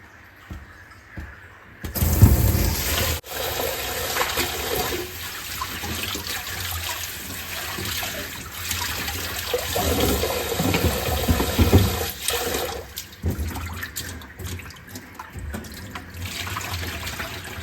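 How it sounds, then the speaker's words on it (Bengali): Running tap water pours steadily into a sink while small freshwater fish are rinsed by hand, a continuous close splashing rush that shifts slightly as the fish are moved under the stream, with brief quieter moments near the start and end. "এখন এই বাঁশপাতা মাছ এবং পাবদা মাছ এনেছে, এই দুটো মাছও ধুয়ে নেব।"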